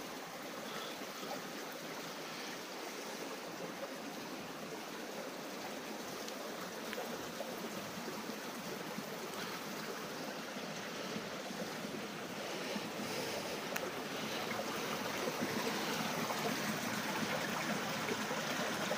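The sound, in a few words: water flowing, welling up from below in a quarry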